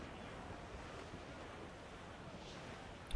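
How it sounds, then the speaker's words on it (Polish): Wind and waves at sea in the video game Assassin's Creed IV Black Flag: a constant rushing roar of gusting wind over churning surf, loud and unbroken for about three seconds. "O kurde, wiatr."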